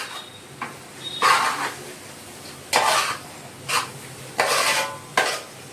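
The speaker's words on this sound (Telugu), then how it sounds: "బాగా కలిసేదాకా కలపాలి" Food being stirred and mixed in a pot for uggani, a puffed-rice dish with roasted gram powder, heard as several scraping bursts at irregular intervals over a quiet background.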